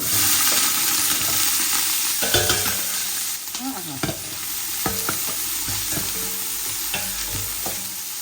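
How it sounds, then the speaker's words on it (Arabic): Onions frying in very hot oil while making Iraqi kubba, a steady sizzle broken by repeated stirring scrapes and clinks of a utensil against the pan. "الزيت مالي كلش حار. هسه اجيب البصل"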